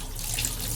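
Water runs steadily from a Delta shower valve fitted with a new cartridge, set to full hot, giving a continuous close hiss and splash with no voices.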